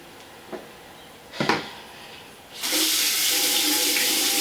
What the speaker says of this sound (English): Just wetting my hands a little bit.